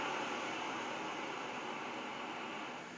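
Ocean background sound played on an iPhone 14, a constant broadband wash of surf-like noise that holds steady and fades slightly toward the end, with no voices.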